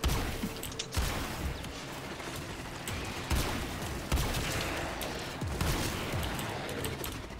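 Gunfire in a shooter video game: dense, loud bursts of shots crackling almost continuously, with sharper blasts standing out every second or so over a noisy battle backdrop, no speech.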